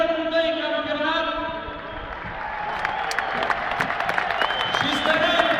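Audience applause at a Universitatea Cluj football club celebration, sustained clapping from a crowd with a voice speaking over it, building slightly toward the end.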